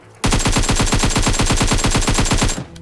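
Automatic gunfire in the PUBG Mobile video game: one loud, close, sustained burst of rapid evenly spaced shots lasting about two seconds, then a sudden stop.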